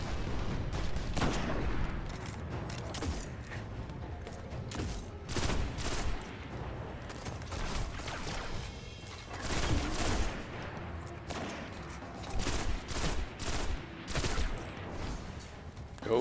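Rapid bursts of gunfire and weapon blasts from the video game Destiny: The Taken King, loud and dense throughout a firefight, with repeated volleys and booming impacts.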